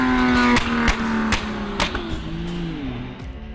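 A powerful Porsche engine, the fastest in Finland, revs up and down with shifting engine tones, punctuated by several sharp exhaust pops and bangs. It is loud and close, with no voices.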